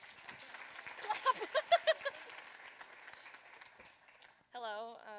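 Applause from an audience at a symposium as a young speaker is welcomed on stage, moderately loud clapping with a few sharp louder claps, fading out before a voice begins at the end.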